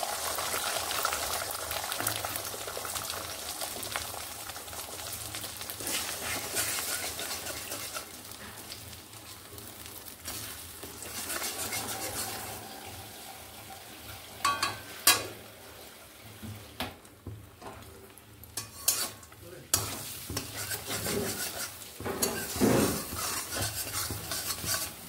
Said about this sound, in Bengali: এখানে আমি যে ডিমগুলোকে ফাটিয়ে নিয়েছিলাম সেগুলোকে দিয়ে দিচ্ছি।